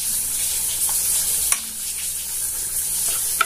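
Hake fish sauce sizzles and fries steadily in a hot pan, a continuous hissing crackle with a couple of faint clinks of stirring, close and alone without talk.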